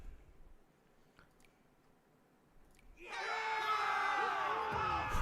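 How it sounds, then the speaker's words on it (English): Cheering crowd sound effect from a video game bursts in loudly after about three seconds of near silence, a dense, sustained wall of whooping voices that holds steady to the end. "Random ass cheering"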